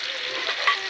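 Chicken meat fries in a little oil in a kadai for khichuri, giving a steady close hiss with a brief brighter crackle near the end.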